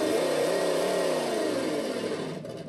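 A modded 1969 Camaro RC car fitted with a supercharged V8 engine sound unit gives off a loud, steady simulated V8 rumble with a rising rev that then eases off, heard close and alone.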